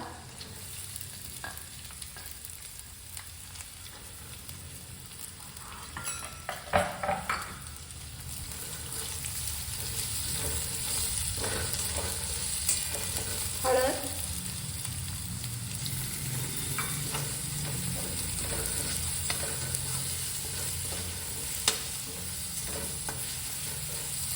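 Chopped onion sizzles in hot oil in a pan for masala vangi, with intermittent scraping stirs of a spatula over a constant close frying hiss.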